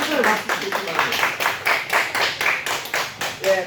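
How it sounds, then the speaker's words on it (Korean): Congregation at a Sunday church service giving loud, rhythmic applause in steady beats, with voices heard alongside the clapping. "함께 큰소리 박수 주시기 바랍니다"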